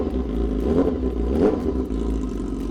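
BMW S1000RR sport motorcycle engine revving lightly while riding, a low droning rumble with a couple of gentle throttle swells and no talk.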